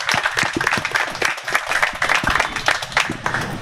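A round of clapping from a modest audience at a content creation talk, moderately loud and steady with distinct individual claps, a few cheers mixed in.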